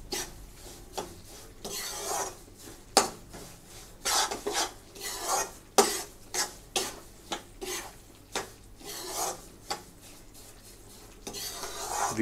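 A spoon stirs thick moong dal halwa mixture in a pan continuously, making repeated close scraping and rubbing strokes in a steady, uneven rhythm, with no voices.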